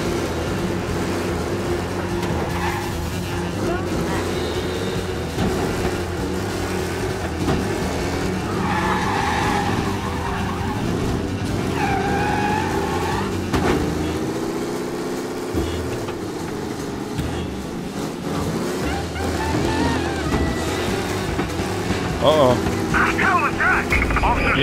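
Car driving and skidding in the Mafia Definitive Edition racing mission, a steady loud engine roar with tire squeals and sliding bursts throughout, with a voice talking over it.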